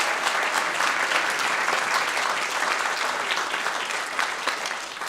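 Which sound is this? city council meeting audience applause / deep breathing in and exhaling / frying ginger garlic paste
city council meeting audience applause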